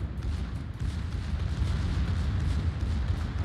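Battleship secondary guns fire in World of Warships during a competitive match, giving a steady rumble of distant booming shots under a continuous, roaring battle background.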